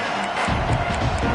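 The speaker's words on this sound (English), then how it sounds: "It's early, but this crowd is fired up" A large stadium crowd at a football game roars and cheers continuously, a loud, dense wall of voices filling the space with no pauses.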